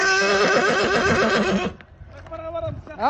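A six-to-seven-year-old stallion at a Turkestan livestock market gives a loud, close whinny, then quieter hoof clops and a brief second whinny amid market noise.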